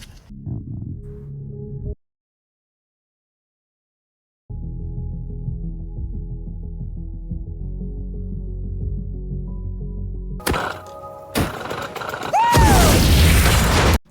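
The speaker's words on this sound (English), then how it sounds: "So, yeah, I blew myself up." A hydrogen explosion in the film The Martian (2015): a low mechanical drone gives way to a sudden loud blast, followed by roaring broadband debris noise and a rising tonal whine.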